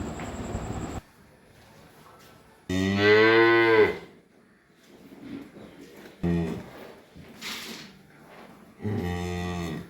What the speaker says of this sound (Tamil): இந்த கன்றுக்குட்டி, இது ரொம்ப க்யூட்டான கன்றுக்குட்டி, ரொம்ப சமத்தான கன்றுக்குட்டி.